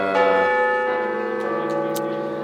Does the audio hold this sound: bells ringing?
yes